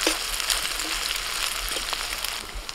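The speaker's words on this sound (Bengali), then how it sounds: "পেঁয়াজটা ভাজা হয়ে গেছে। এখন আদা রসুন বাটা দিয়ে দিচ্ছি।" Ginger-garlic paste hits fried onions in a hot pan, a steady, close crackling sizzle that holds evenly over a couple of seconds with no voices.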